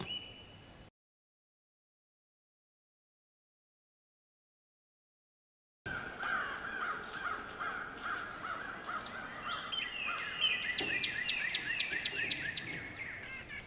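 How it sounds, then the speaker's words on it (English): Crows cawing outdoors on a spring day at a maple syrup boiling site, a series of harsh rhythmic calls at moderate distance among other bird sounds, after a brief gap of silence near the start. "There are birds everywhere"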